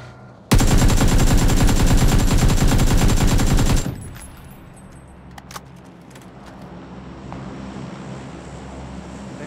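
A sustained, loud machine-gun burst from a video game fires in a fast, even stream for about three seconds, then cuts off, leaving faint scattered shots and low ambient rumble.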